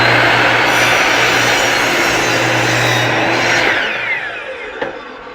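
A Ryobi miter saw cuts a 45-degree angle through baseboard trim. The motor gives a loud, steady whine and roar close by, then spins down over about a second as the cut finishes.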